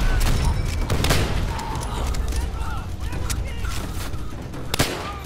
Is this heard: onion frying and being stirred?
no